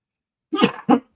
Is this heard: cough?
yes